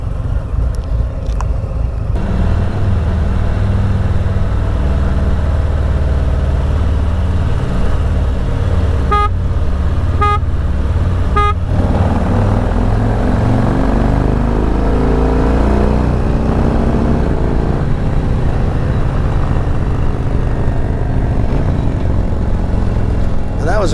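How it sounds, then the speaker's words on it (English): Two motorcycles fitted with a Stage II performance kit accelerate in a fourth-gear roll-on, a loud, steady engine drone rising in pitch, with a few short horn-like tones cutting through midway. "Let's go straight down this road, Joe, and we'll do like some third or fourth gear roll-ons."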